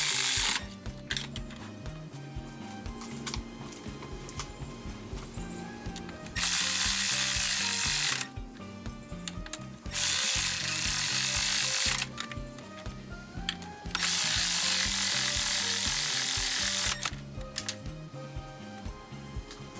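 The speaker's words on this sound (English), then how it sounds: "when you're tightening this bolt," Ratchet tightening a coil pack bolt on a Kia Soul during a spark plug tune-up: bursts of rapid close clicking alternate with brief pauses as the handle swings back and forth, loud and near with no talk.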